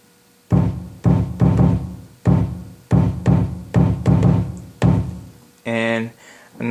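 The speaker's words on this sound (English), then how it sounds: "It's a drum machine, so it's like I tap different pads and it makes a sound like this." Pads on an MPC 1000 drum machine are tapped in a series of eight punchy, bass-heavy hits with short decays in an irregular beat, followed by a brief tonal, pitched sound at the end.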